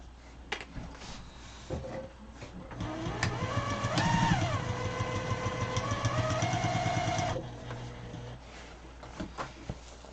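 A sewing machine top stitches fabric, its motor whirring up to a steady rapid stitching run for a few seconds, framed by quieter handling clicks before and after.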